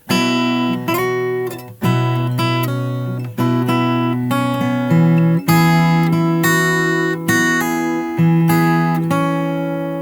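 Fingerstyle guitar playing the last line of the pre-chorus of a song, a steady run of plucked notes and chords ringing continuously and loudly for ten seconds, close up with no voice.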